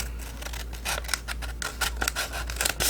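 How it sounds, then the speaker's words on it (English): Scissors snip through paper while an envelope is being made, a rapid series of close, crisp cuts in quick succession. "snip this side."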